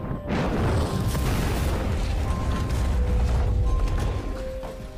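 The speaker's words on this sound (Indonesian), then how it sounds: "akibat ledakan tersebut membuat isi tas Alin keluar" A concrete block set alight with LPG gas erupts in a sustained, rumbling explosion that starts abruptly and roars loud and close for several seconds with crackling debris.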